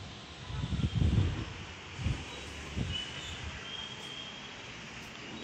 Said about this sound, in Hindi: कितने ज़ोर से हवा चल रही है इधर।